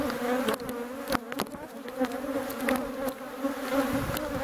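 Honey bees buzzing in a recently split hive during a quick inspection, a close, steady droning hum with a few faint clicks and bumps over it.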